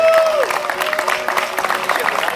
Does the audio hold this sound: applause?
yes